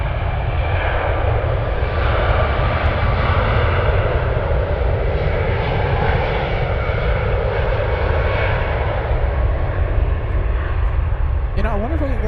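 Airliner engines at San Francisco International Airport, a continuous broad roar holding steady and loud throughout, with a faint rising whine appearing at the very end.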